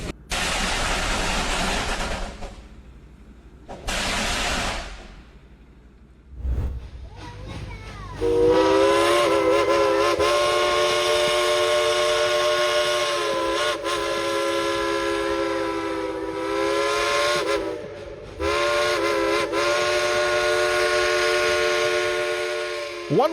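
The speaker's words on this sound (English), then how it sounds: "One whistle, and suddenly it feels like you've traveled back 100 years." A steam locomotive, over a century old, first lets off loud bursts of hissing steam, then sounds its whistle in a long, steady, harmonic blast that wavers slightly and holds for many seconds, close and loud.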